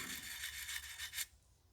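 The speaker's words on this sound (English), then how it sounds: "I'm letting the sanding stick do the work." A sanding stick rubs back and forth under light pressure on a plastic part of a 1/48 Eduard P-39L Airacobra model kit, making close, steady dry rasping strokes that stop abruptly near the end.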